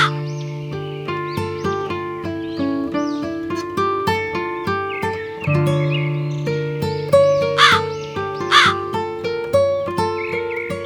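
A crow caws a couple of times over steady, stepwise melodic music in a children's story setting, with the harsh calls standing out briefly near the end.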